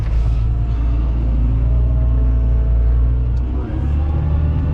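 A tractor ploughing a sandy field, its engine a steady, close low rumble with a brief dip in load near the end, no talk over it.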